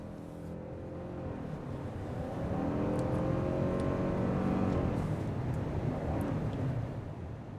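A Toyota Sienna Platinum AWD hybrid minivan's gas engine starts up and hums louder under the cabin noise, holding a steady drone before easing off near the end.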